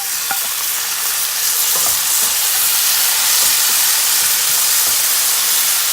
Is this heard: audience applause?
no